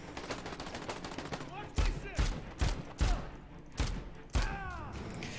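Soldiers fire guns in the video game Dead Rising: a rapid crackle of gunfire with six or so louder booming shots standing out and ringing echoes, over a continuous busy game soundscape.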